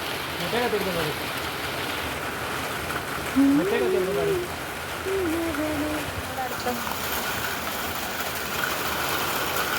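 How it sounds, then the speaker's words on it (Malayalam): Heavy rain falls steadily as a continuous hiss, with a voice talking over it for most of the stretch. "ഇത് മഴ നല്ല മഴയാണ് കേട്ടോ ഇവിടെ. അടിപൊളി മഴ."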